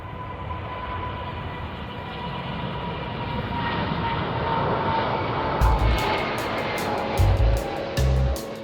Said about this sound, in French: l'avion décrit une parabole et reproduit ainsi une portion d'orbite